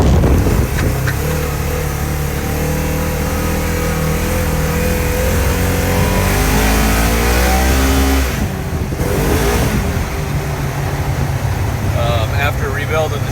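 A Polaris General UTV drives down through a ditch, its engine droning loud and close with a rising rev in the middle, wind and rumble over it and a voice speaking briefly near the end.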